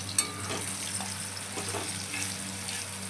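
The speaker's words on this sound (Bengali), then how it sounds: "আলু আর শিম একসঙ্গেই ভাজা ভাজা করার জন্য দিয়ে দেওয়া হলো। আলু একটু নেড়ে নিলাম তেল দিয়ে।" Potatoes and flat beans fry together in oil in a pan for a fish curry, a constant hissing sizzle with a few faint scraping stirs, close and moderate, no one talking.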